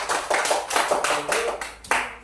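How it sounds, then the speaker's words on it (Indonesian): Classroom of schoolchildren clapping in bursts, close and fairly loud, with a few distinct surges and some voices mixed in. "Berikan tepuk tangan kembali."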